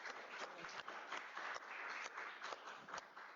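Brief burst of audience applause at a book presentation, many hands clapping in a steady patter at moderate volume, no voices.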